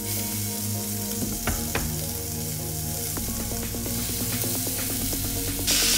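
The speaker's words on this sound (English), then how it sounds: "First we will fry the beef." Beef searing in a very hot pan with olive oil, a loud continuous sizzle and crackle with a few sharp spatters and utensil knocks, no talking.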